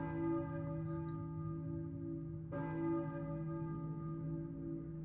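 Church bell tolling in the Silent Hill video game, two slow, resonant strikes with long ringing overtones that hang over a quiet background hum.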